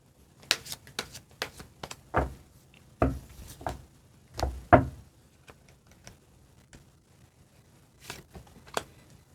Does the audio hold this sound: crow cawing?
no